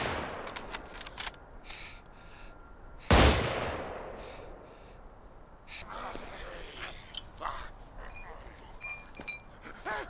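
A Remington 700 rifle in the zombie game Contagion fires one sharp, loud shot that rings out and decays, set among quieter clicks and scattered game sounds.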